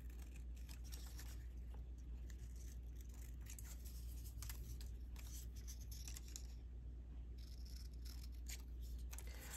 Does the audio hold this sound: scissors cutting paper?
yes